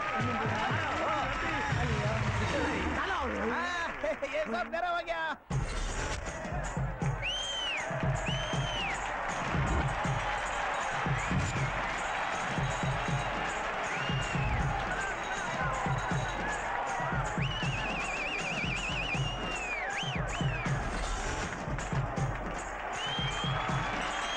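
Crowd at a greasy pole contest clapping and cheering steadily, a dense roar of applause with voices shouting over it and a brief break near the start.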